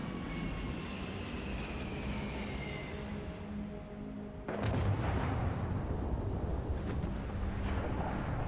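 In the video game Starfield, a faint blast rumbles in as a sudden broad swell about halfway through, then lingers as a steady roar over a hiss of background noise.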